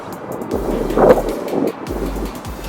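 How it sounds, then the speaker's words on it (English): Gusty wind buffets the microphone during a model plane flight, low rumbling bursts rising and falling in strong, uneven gusts close to the mic. "It is very windy though."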